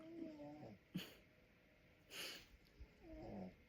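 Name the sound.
snoring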